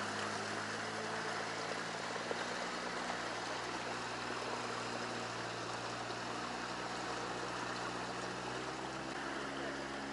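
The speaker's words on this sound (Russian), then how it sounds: "И потом уже Александр поставит мотор, заведет." A boat's outboard motor idles steadily in water, a constant low hum with harmonic bands running through the whole stretch, accompanied by a faint watery trickle in a Yakutian hunting setting.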